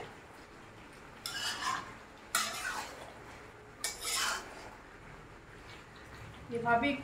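A spatula stirs mixed vegetables with prawns in a pan, making several soft scraping, rubbing strokes in short bursts, fairly quiet and close.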